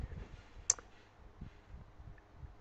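A single sharp computer mouse click on a web link, quick and close, standing out against a quiet background with faint low rustling.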